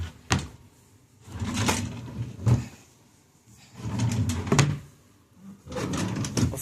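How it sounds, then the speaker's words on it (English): Hotel room drawers slide open and shut several times, a run of close wooden scrapes and knocks separated by short quiet gaps. "Y'all know we're going to check these drawers."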